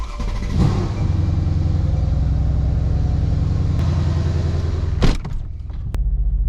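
A Mercedes-AMG backs out of a garage, its engine rumbling steadily and close, with a couple of brief sharp knocks near the end.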